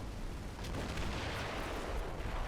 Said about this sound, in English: there's a lot of mortar ammo dropping in there